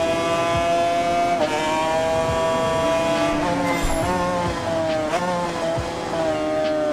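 Motorcycle racing in the video game Ride 4, with a continuous engine drone that rises and falls in pitch through gear shifts, loud and steady throughout with no talk.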